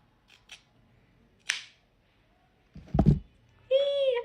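Scissors snip through hair bangs in two or three short, crisp cuts, separated by brief quiet gaps, followed by a soft voice speaking near the end.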